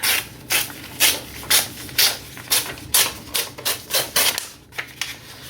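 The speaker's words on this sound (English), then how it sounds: "So I'm just going to go ahead and tear it like right here." Paper scraps torn apart by hand for a rag-tag art bag, heard as about a dozen short, crisp, papery rips. They come one after another at a steady pace, close up with no talking.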